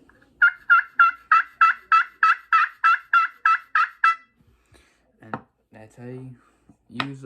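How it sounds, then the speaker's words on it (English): Turkey yelps scratched out on a slate call, a quick run of about twelve evenly spaced, raspy high notes, close and clear, then a few scattered scrapes and softer sounds. "That's how you yelp on a slate call."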